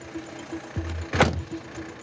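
Gendarmerie patrol car from a Burgundy unit driving at night, a low engine hum with a brief rising whoosh midway, fairly quiet with no talk.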